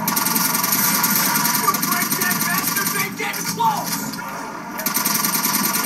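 STG rifle fired in a video game: loud, rapid automatic bursts rattle almost continuously, with a brief lull partway through before firing resumes.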